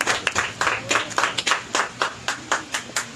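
An audience claps to welcome new members joining the Aam Aadmi Party, a steady rhythmic run of fairly quiet, sharp hand claps with no talking.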